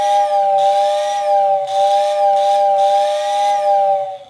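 A Lionel toy train whistle tender, rewired to AC and run from an old switch controller at half transformer power, blows a loud steady two-tone whistle with a hissing overlay that pulses in several bursts, while a noisy motor hums underneath.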